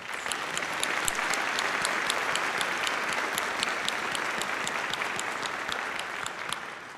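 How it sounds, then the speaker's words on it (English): A large commencement crowd applauds Virginia Tech graduate school graduates, dense and sustained clapping holding at an even level for several seconds, then easing slightly at the end. "Please join me in a round of applause for all of our outstanding graduates"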